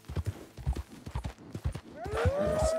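Horse hooves in Red Dead Redemption 2 pound out a quick, steady clip-clop gallop at close range, and a rising tonal whinny-like sound enters near the end over the continuing hoofbeats.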